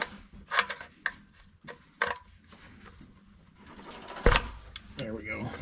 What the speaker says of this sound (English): I'm gonna flip my little ratchety wrench over here.